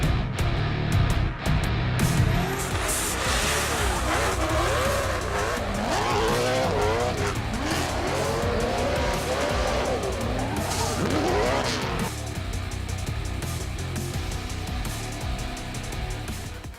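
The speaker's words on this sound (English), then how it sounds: "The action off-track continued with the Australian Drifting Grand Prix Drifting Exhibition presented by Link ECU." Drift cars at the Australian Drifting Grand Prix exhibition at Jamboree Melbourne 2016 scream through sustained slides, engines wailing and tires squealing in long sweeping tones, loud and continuous with crowd and PA noise underneath.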